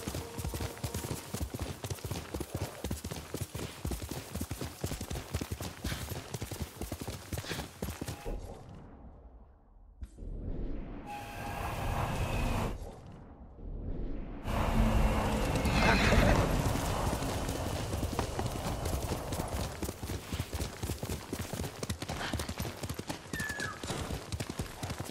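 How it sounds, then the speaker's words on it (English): A horse in Ghost of Tsushima gallops with steady, rapid hoofbeats and lets out loud neighs and whinnies, the pounding gait breaking briefly before resuming, close and prominent against game ambience. "Good horse."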